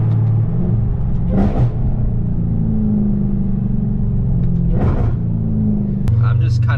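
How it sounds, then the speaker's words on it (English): Deep, steady exhaust rumble from a Dodge Hellcat idling and cruising, a loud continuous low drone with two brief revs swelling partway through and another near the end. "that's the loudest car ever"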